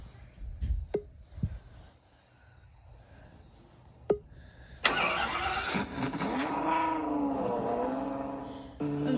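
A car engine in the Driving Empire video game starts up with a sudden burst and settles into a steady hum after a few sharp clicks and faint background noise.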